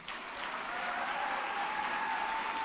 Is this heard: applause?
yes